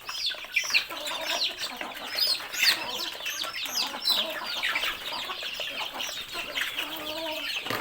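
Brood hens and chicks on a poultry farm clucking and chirping busily as they scramble for feed, a dense close chorus with occasional wing flaps.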